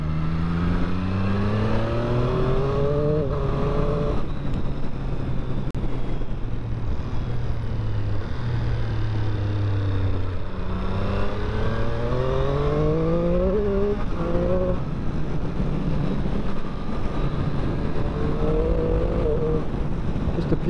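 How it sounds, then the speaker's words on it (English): A Triumph Street Triple RS motorcycle revs hard and repeatedly, rising and falling in pitch with a deep, throaty exhaust note, steady and close throughout. "Sound of that exhaust."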